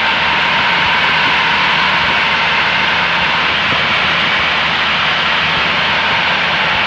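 Piper Pacer light aircraft engine drones steadily from inside the cockpit on final approach to runway 30 at Scottsbluff, a loud, unbroken broadband roar with no speech.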